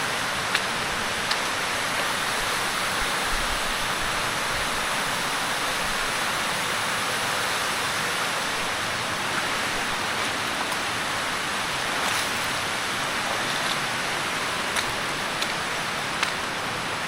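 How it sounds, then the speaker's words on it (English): A waterfall in a cave area in Thailand gives a steady, broad rushing roar of falling water, loud and continuous throughout with no voices. "And there's another waterfall."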